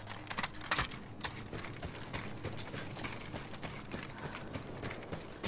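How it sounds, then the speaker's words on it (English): Horse hooves in the Battlefield 1 video game make a steady rapid clatter of clip-clop beats, moderately loud and continuous across the whole stretch, with game noise mixed in. "So there's another horse there."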